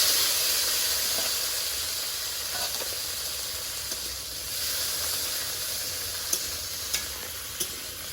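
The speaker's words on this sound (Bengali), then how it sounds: "বেগুন আলুটা ভাজা হচ্ছে" Eggplant and potato fry in a pan with a continuous loud sizzle and hiss, plus a few small clicks near the end.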